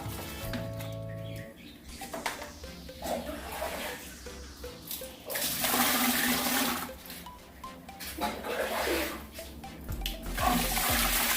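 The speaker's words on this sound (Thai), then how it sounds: "แล้วเราก็ราดน้ำตามไปแบบนี้ครับ" Water is poured into a toilet bowl after cleaning, sounding as a loud gushing splash that swells and fades in several surges, with a clunk at the start.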